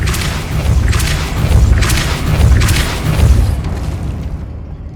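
A Depulso spell cast in the video game Hogwarts Legacy lands as a series of deep booming thumps, three or four heavy bursts in a row, loud and close, then fades to quiet.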